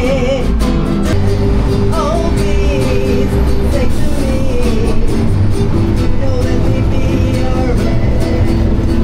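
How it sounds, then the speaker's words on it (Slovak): Live music played aboard a Mexico City bus, a melodic instrument line with sustained tones over steady engine rumble and road noise, fairly loud and close. "Autobus so živou hudbou, jaký luxus."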